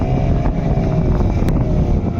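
Strong, steady wind roars at sea aboard a fishing boat caught in a storm, a continuous rushing blast with a deep rumble beneath and no pauses.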